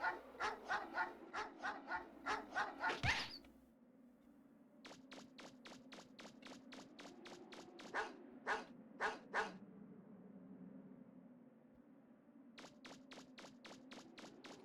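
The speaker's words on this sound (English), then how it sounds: "I think these scrap heap dogs don't like me." Scrap heap dogs in Mega Man Legends bark in rapid, repeated volleys, sharp and fairly close, with pauses between bursts and several dogs overlapping.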